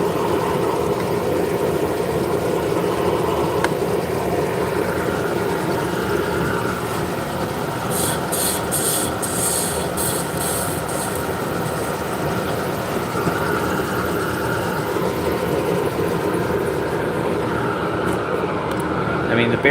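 A woodworking machine with worn, loud bearings runs continuously with a steady droning hum and rumble, and brief higher rattling bursts partway through.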